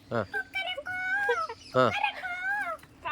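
A voice imitates a chicken with a series of high, wavering clucks and a drawn-out crowing call, close and fairly loud.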